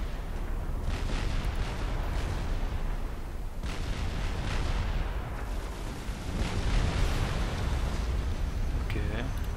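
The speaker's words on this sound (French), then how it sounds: "Il y a de l'artillerie qui me tire dessus." Artillery shells pounding the player's base in the strategy game Supreme Commander Forged Alliance, repeated heavy booms and rumbling blasts in irregular bursts over continuous battle noise.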